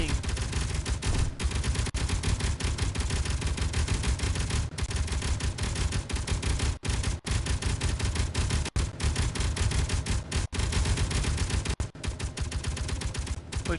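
Gunfire in the survival video game Helios Underground Survival, a long continuous barrage of dense rapid shots with brief gaps, loud and steady throughout.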